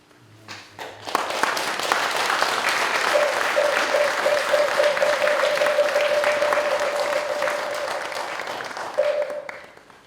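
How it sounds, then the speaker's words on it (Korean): Sustained audience applause at a Buddhist dharma service honoring a senior monk's talk, broad dense clapping swelling in after a moment and holding steady for several seconds, with a faint held tone running beneath partway through. "큰 스님께 큰 박수로 다시 한번 감사드립니다"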